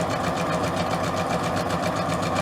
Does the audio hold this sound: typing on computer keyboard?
no